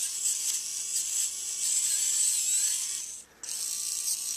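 A Harbor Freight Warrior compact cordless screwdriver spins freely at about 100 RPM with a thin, steady high-pitched motor whine. It cuts out briefly near the end, then resumes, close up with no voices.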